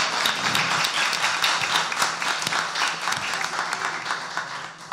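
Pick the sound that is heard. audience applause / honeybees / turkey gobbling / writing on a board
audience applause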